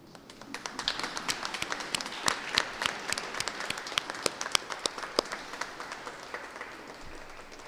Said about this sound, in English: I would actually want all of you all to stand up and just clap for each other